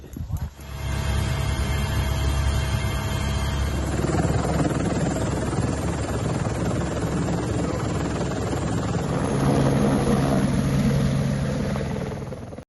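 A rescue helicopter flies close to a mountain wall, its rotor and engine producing a loud, steady thrumming drone throughout, with voices talking over it.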